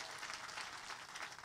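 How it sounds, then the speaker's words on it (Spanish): A congregation gives the Lord loud applause at an open-air worship service in the Riohacha market. The clapping is dense and continuous, moderately distant and fairly quiet, with no speech over it. "Vuelve y dele otro aplauso fuerte al Señor."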